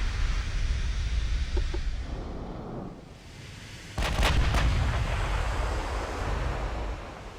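Battleship guns boom in a naval game battle, USS Iowa against IJN dreadnoughts, as low rumbling blasts over a constant wash of ocean and wind, with a sharper burst of fire midway.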